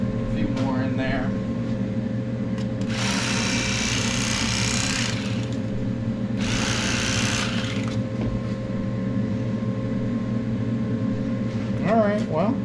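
An electric fillet knife slices through a large Minnesota fish catch, giving two buzzing bursts of a few seconds each over a steady background hum.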